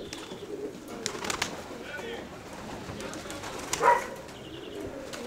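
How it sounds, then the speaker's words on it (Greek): Pigeons in a loft coo softly amid scattered chirps and rustling, mostly faint, with one brief louder call near the middle and low background murmur throughout. "Να δω τα πουλάκια μας, εδώ είναι."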